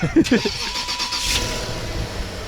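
A car engine cranks and fires from cold, settling into a steady idle close by while people talk over it.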